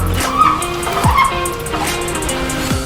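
A Subaru STI with a freshly built 400 HP race engine revs loudly and close by in quick, rising and falling bursts, its harsh exhaust note filling the short stretch.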